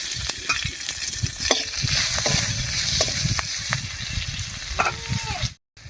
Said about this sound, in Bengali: সিম ভাজার এই তেলের মধ্যে দেব কয়েকটা চেরা কাঁচা লঙ্কা